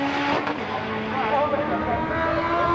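A little front-wheel-drive MG drag car running down the strip at Santa Pod Raceway, its engine a loud, steady high-revving roar with a brief pitch drop as it shifts, while a commentator talks over it.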